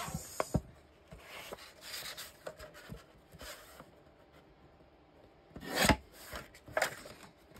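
Cardstock being cut for a scrapbook door shadow box, heard as soft rasping, scraping strokes close up, with a few sharper bursts toward the end and no talking.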